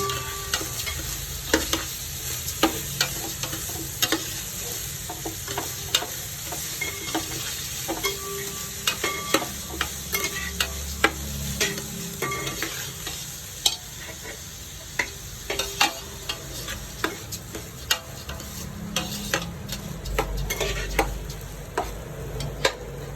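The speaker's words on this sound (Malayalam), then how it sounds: "ആ എണ്ണയിൽ തന്നെ അരി ഇട്ട് വറുത്ത് കൊടുക്കാം" Soaked and drained rice frying in oil for ghee rice, a constant close sizzle punctuated by frequent sharp ticks and scrapes of a spoon against the pan.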